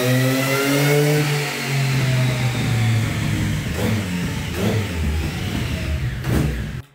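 A motorcycle engine on a dyno revs hard and steadily, its pitch sliding down and then holding in a loud continuous drone, with a few brief bursts near the end.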